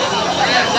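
Dense crowd hubbub at a busy Agri festival fairground, a steady wash of overlapping voices with no single speaker standing out.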